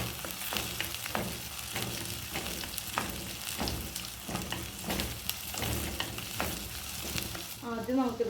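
Sliced onions and green chillies fry in a pan with a steady close sizzle while a spoon stirs and scrapes through them in regular strokes. A voice speaks briefly near the end.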